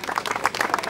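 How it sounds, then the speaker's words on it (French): A brief burst of audience applause at an enduro motorcycle race in Brionne, dense clapping from many hands, fairly loud and close. "On les applaudit bien fort tous les trois."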